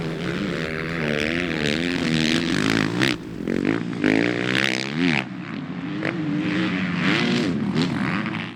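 Motocross motorcycles at an Archview MX national race roar down the start straight, a loud, sustained engine drone that rises and falls in pitch as bikes rev and pass close by, with no talking.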